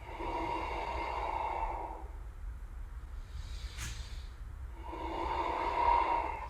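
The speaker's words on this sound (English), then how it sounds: "And we're breathing here." Deep breathing during a dynamic yoga sequence: a long slow exhale, a pause with one brief sharp intake, then another drawn-out breath, close and soft with no talking.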